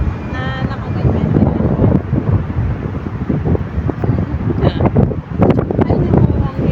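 Strong wind buffets the microphone in a steady roar for the whole stretch, with faint background noise and no clear speech.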